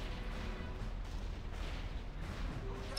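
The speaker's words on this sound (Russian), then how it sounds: "стреляйте, пушки добивайте" Ship cannons firing during a World of Warcraft gunship raid in Icecrown Citadel, a dense, continuous rumble of booming shots layered over game noise, loud and steady throughout with no clear gaps.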